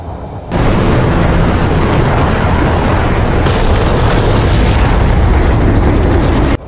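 A bomb from an F/A-18C Hornet explodes after a CCIP release in the DCS World flight simulator: a sudden loud, broad boom that holds as a dense roaring rumble for several seconds, then cuts off abruptly.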